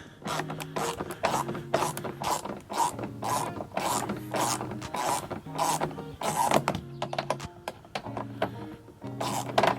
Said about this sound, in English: you can use a 10mm socket to get that out